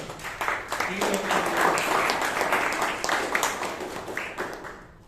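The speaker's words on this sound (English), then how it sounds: "Let's have a big round of applause for" Audience applause at a Toastmasters meeting in Bangalore: a steady wash of clapping from a gathered crowd, fairly close and even in level for a few seconds before easing off.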